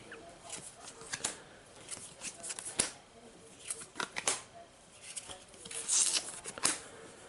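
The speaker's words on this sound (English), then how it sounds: "let's deal myself some new cards here" Marvel Legendary playing cards are dealt and slid off a deck in quick, soft riffling flicks and snaps, quiet and close, coming in uneven bursts.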